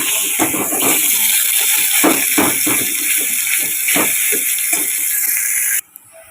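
Spice paste of coriander leaves, ginger, onion, garlic and green chilli, with salt, turmeric and cumin, frying in a pan for fish curry: a loud, steady sizzling hiss with faint stirring clicks, cutting off abruptly near the end.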